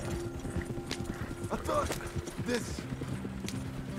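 Horses' hooves clip-clop and gallop in the Western video game Red Dead Redemption, a rhythmic run of hoofbeats with a brief whinny, partly under spoken dialogue.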